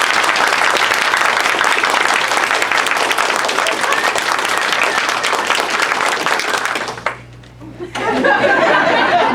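Loud, dense audience applause fills a story-time show, with scattered chuckles in the crowd. The clapping runs steadily for about seven seconds, drops away briefly, then surges back up.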